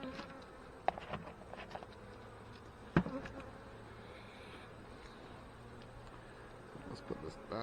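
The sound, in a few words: honey bees buzzing in an opened hive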